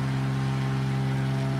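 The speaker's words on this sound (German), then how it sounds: "Der Motor rausdrehen, ich höre ja nichts hier." A steady, droning aircraft engine hum comes from the X-Plane 11 flight simulator, heard on a flight from Dominica to Guadeloupe. It is loud and continuous with an even tone and no talk over it.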